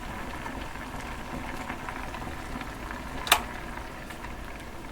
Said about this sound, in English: the sizzling of a frying pan was drawn as rain